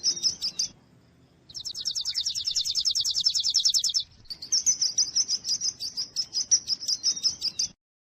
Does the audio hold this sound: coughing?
no